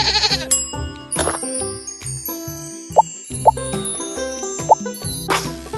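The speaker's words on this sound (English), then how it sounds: "Goat." A cartoon goat bleats once among bright, bouncy children's music dotted with plops and tinkling chimes, the animal call loud and close in a playful farm-animal scene.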